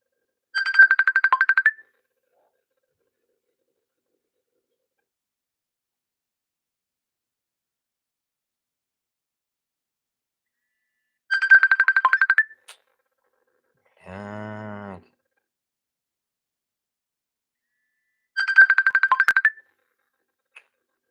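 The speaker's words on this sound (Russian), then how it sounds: "С Фейсбука звонят." Incoming Facebook call ringtone on a phone during a livestream, sounding in three short bursts spaced several seconds apart, with one brief lower tone between them and silence otherwise.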